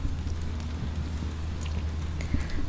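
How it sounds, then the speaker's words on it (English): Steady rain patters on a surface with a low, continuous rumble beneath it, suggesting distant thunder, heard without any voices. "The rain intensifies briefly, a rumble of distant thunder."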